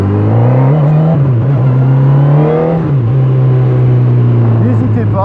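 Honda CB1000R motorcycle engine running with a steady low idle drone and slight revs, loud and close, while someone talks over it throughout.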